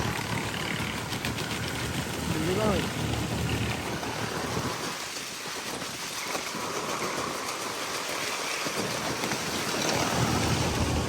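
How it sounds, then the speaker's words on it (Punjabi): Steady wind rushes and buffets against the microphone, a broad continuous roar that eases briefly in the middle before building again. "ਹਵਾ ਚੱਲ ਰਹੀ ਪੂਰੀ"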